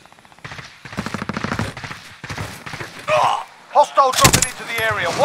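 A decoy grenade in a shooter game gives off a run of fake gunfire bursts, rapid, evenly spaced clattering shots mixed with game effects, while players talk over it.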